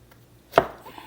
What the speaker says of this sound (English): And then this one, you just cut into planks.